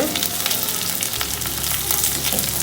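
Brinjal pieces frying in oil in a pan, a steady close sizzle with soft stirring scrapes mixed in, heard alone without any talk.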